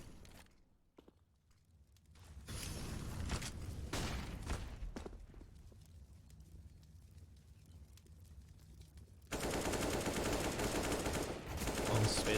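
AK rifle fire on the Inferno map in Counter-Strike, heard as scattered sharp shots and short bursts, then a louder dense stretch of firing near the end.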